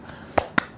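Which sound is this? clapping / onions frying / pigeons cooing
clapping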